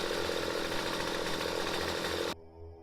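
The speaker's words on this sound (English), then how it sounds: "And I killed it with the chainsaw, because the lasers would take time to kill that thing." A chainsaw weapon in the video game StarForge buzzes loudly and continuously with a harsh droning whine, then cuts off abruptly near the end, leaving a faint low hum.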